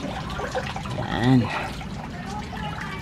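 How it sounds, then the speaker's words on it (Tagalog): Collected water is tipped out of the leaves of a blue agave plant, a short trickling pour under a person talking throughout. "tataob natin yung pinaka naipong tubig dun sa kanyang pinaka dahon"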